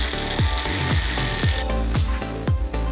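A power drill bores a hole in a bike handlebar. The motor whines continuously, with a strained, grinding pitch that dips in repeated sweeps about every half second.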